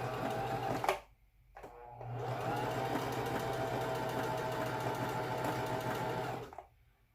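A Singer M3220 sewing machine runs in short stitching bursts, first a brief burst and then one long steady run of rapid mechanical whirring and clatter, close and fairly quiet, with no talking.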